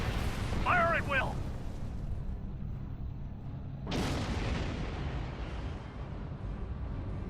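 Starship weapons fire and explosions rumble through a Star Trek Online space battle, with a sharp blast erupting near the four-second mark and a steady low roar continuing underneath; a voice briefly speaks early on.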